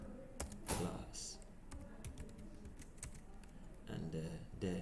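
Keys clack on a computer keyboard while an artboard in Photoshop is renamed, a short run of close taps with a few sharper strokes, heard alongside someone talking.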